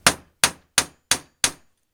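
Five sharp metallic taps marking the center of a Pentair Whisperflo pool pump front end bell, evenly spaced and ringing briefly, loud and close with no talking.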